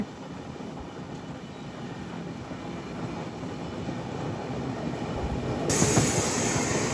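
The Venad Express between Thiruvananthapuram Central and Shoranur rushing past, a continuous broadband roar of wheels and carriages that grows slightly louder toward the end.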